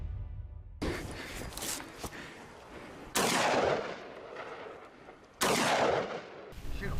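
Gunshots ring out during a wild boar hunt, with sharp, loud reports at intervals over a rustling outdoor background and a few softer thumps between them.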